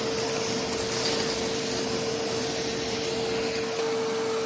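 A DeWalt wet/dry shop vacuum runs close and loud, a constant roaring suction whine with a steady hum beneath, sucking up debris and rocks without pause and with no voices.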